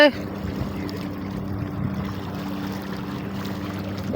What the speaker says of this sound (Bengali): ওই যে আরেকটি নৌকা যাচ্ছে